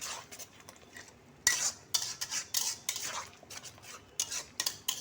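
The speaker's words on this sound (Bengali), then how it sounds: "এবার নাড়তে থাকবো।" A utensil scrapes and clatters against a pan as tomato paste is stirred into a potato and eggplant vegetable curry, sharp metallic strokes coming in quick irregular bursts, close and fairly loud, with faint frying beneath.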